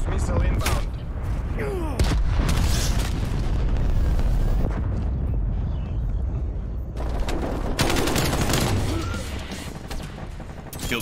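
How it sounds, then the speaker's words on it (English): A cruise missile strike in the Black Ops Cold War video game on the Apocalypse map, heavy booming blasts and rumbling explosions sustained across the stretch, with brief voice callouts mixed in. "Cruise missile inbound"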